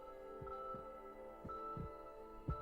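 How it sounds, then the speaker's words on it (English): Heartbeat sound effect from an Attack on Titan anime episode: a few low, soft thumping beats at an uneven pace over a sustained tonal hum, fairly quiet throughout. "There's a heartbeat, just like the episode title."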